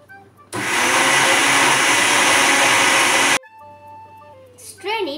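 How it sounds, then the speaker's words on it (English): A kitchen blender whirs loudly while blending red cabbage with water, a steady close roar lasting about three seconds before cutting off abruptly, followed by quieter tones and a brief voice. "Blend the cabbage with some water."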